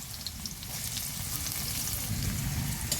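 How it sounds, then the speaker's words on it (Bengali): Chopped onions frying in oil in a wok with whole spices and dried red chilies, a continuous close, dense sizzle with a low bubbling rumble and faint stirring, steady throughout without any voices. "এই যে পেঁয়াজটা লাল লাল করে ভেজে নিলাম"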